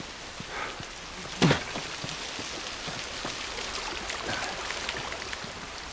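Rain falls steadily in The Last of Us, a soft continuous patter on surfaces with scattered drops and one brief sharp knock early on, no voices over it.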